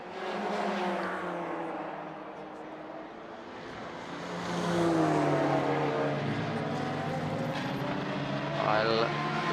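Touring cars racing in the Baltic Touring Car Championship, a Cupra leading a Honda, their engines droning steadily with a rising surge midway, under continuous commentary.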